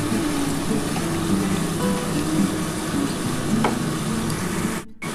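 Chicken sizzles loudly as it fries with spices in a pan, stirred continuously through a steady, close frying hiss with scraping strokes and no voices.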